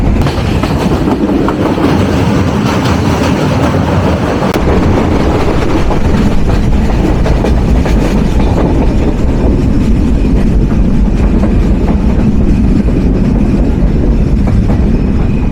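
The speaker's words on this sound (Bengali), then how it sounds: "আমাদের ট্রেন প্রবেশ করতে চলেছে" The Dhumketu Express train rumbles steadily along the rails in Sirajganj, Bangladesh, a loud, continuous roar with a rhythmic rattle of wheels over track joints, heard close by without voices.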